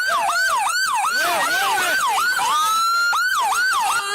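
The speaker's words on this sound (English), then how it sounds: "Somebody turn off their siren." Police car siren wailing loudly and close, a rapid yelp rising and falling again and again with barely a gap, dominating the whole stretch.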